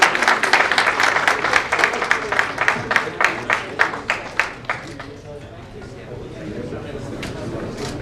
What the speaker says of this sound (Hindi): एक बार संजय जी के लिए ताली बजाते हैं।